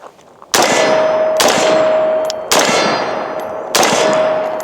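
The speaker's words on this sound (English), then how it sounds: "Let's shoot some more" Four loud, sharp rifle shots from a US Palm Storm rifle at an outdoor range, spaced about a second apart, each with a long ringing decay and a faint steady tone lingering between them.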